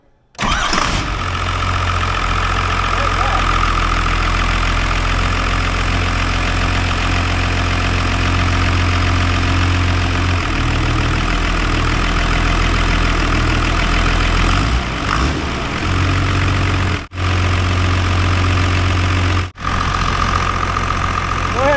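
A Cummins 12-valve diesel in a 1995 Ford F350 dually 4x4 cranks and fires, then settles into a steady, loud, low idle that runs close and unbroken, with two brief dips near the end.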